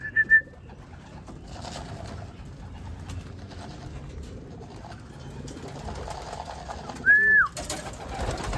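A racing pigeon arrives at its loft on race day after a 150-mile race. Faint cooing and short bird calls, one near the end, come through over soft outdoor background noise, with no talk.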